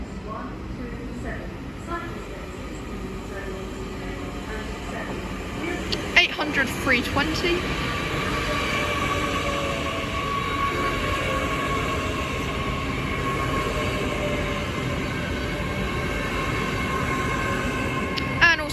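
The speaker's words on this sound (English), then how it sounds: "Now arriving is the 11:45 Great Western Railway service from London Paddington to" A Great Western Railway IET pulls into Reading station, its rolling rumble and steady hum building under a station announcement, with a few brief metallic clanks and squeals as it arrives.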